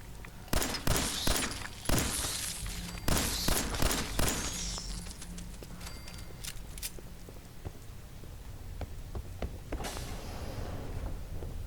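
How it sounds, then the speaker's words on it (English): Gunfire crackles in the video game Fallout 4 while shooting radroaches, several sharp shots in quick irregular bursts early on, then sparser clicks and scuffling with a final short burst near the end. "I suck at shooting rad roaches."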